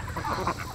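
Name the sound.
geese honking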